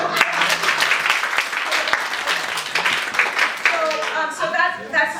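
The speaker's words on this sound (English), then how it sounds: "give it a nice round of applause" Audience applause at a live improv comedy show, steady clapping filling the room for several seconds, with voices and a bit of talk rising toward the end.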